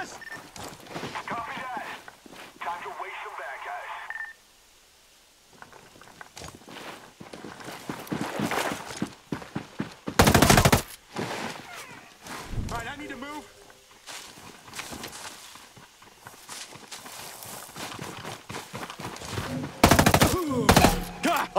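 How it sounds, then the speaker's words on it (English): Hostile troops open fire in the tactical shooter Ghost Recon Breakpoint, with bursts of gunshots and loud crack-like blasts around the 10- and 20-second marks, mixed with footsteps and game dialogue. "Hostile troops are firing at us!"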